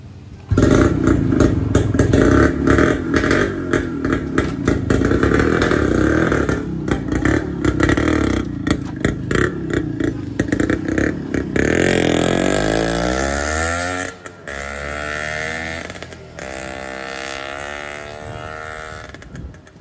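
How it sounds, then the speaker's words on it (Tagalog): A Kawasaki HD3 motorcycle engine with a rotary plate problem runs during a test ride, a loud close two-stroke putter revving repeatedly, rising and falling in pitch, then settling into a lower steady idle. "Testing niya na ang kanyang motor."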